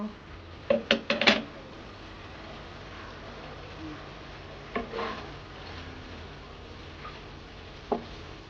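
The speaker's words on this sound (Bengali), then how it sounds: "এবার ঢাকনা উঠিয়ে নেব" A metal lid lifted off a pan of prawns cooking on low heat, giving a quick cluster of clanks and scrapes, then a few softer isolated knocks later, all fairly faint in a quiet kitchen.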